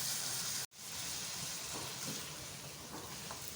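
Tomatoes and peas frying with added spices in a Pakistani matar aloo pan give off a steady, close, broadband sizzle that briefly cuts out, then resumes with light stirring clinks.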